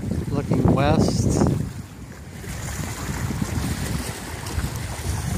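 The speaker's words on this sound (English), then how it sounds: "Pretty breezy today." Wind gusts over the shore at Fred Howard Park on a breezy day, buffeting the microphone with steady rumbling noise and surf beneath, after someone speaks briefly.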